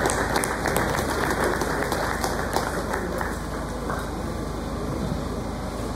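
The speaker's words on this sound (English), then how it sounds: "Let's give our Deputy Vice Chancellor a better round of applause." An audience at a university annual lecture gives the Deputy Vice Chancellor a sustained round of applause, a dense, loud, continuous wash of clapping that holds steady for several seconds, with no talking.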